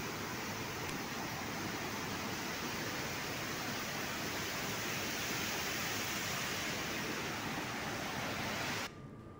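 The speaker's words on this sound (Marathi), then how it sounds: "पुण्यात तुफान पाऊस झालाय." Torrential rain falls in Pune, a dense, even hiss of heavy downpour that holds steady and loud throughout before dropping away abruptly at the very end.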